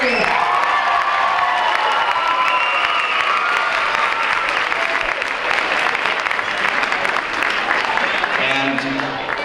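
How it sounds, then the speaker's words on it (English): Sustained applause and cheering from a school audience for first grade performers at an elementary school winter concert, loud and dense throughout with scattered whoops and children's shouts, easing slightly near the end as a voice begins. "Can we have one more round of applause for the first grade?"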